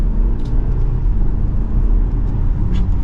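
Steady cabin drone of a 2023 BMW X4 xDrive30i M Sport driving on the road in sport mode, low engine and road rumble holding even throughout, with shifts too smooth to stand out and no talking.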